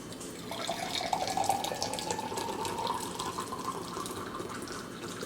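Water running steadily into a vessel for brewing green tea, a continuous close splashing flow that holds for several seconds with no speech.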